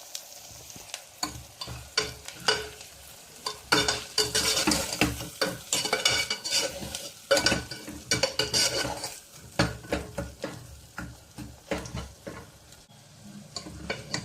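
Ridge gourd fry with coriander powder and salt is stirred in a hot pan, with repeated scraping and clinking strokes of a spoon against metal over a continuous sizzle, in irregular bursts and loud throughout.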